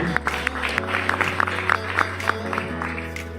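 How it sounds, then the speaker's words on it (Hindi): An audience at an educational training session claps in a scattered burst over a steady low electronic hum, the clapping moderately loud and uneven. "और सर के लिए भी एक जोरदार ताली होनी चाहिए।"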